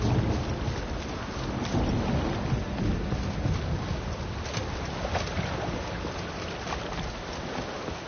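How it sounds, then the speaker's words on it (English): Steady heavy rain hiss with a low rumbling undertone, broad and continuous throughout, with faint splashy rhythms suggesting water and rolling thunder in the background, in the video game The Witcher 3. "I like rain."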